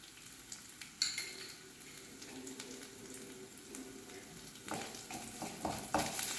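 Mustard seeds and urad dal fry in oil with a faint, continuous sizzle. A utensil stirs and scrapes now and then, with a few sharper pops and clinks.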